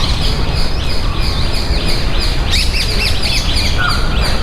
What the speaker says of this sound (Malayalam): എന്തുമാത്രം കിളികളുടെ സൗണ്ടാണെന്ന് നോക്കിയാൽ, കിളികളുടെ കളകളനാദം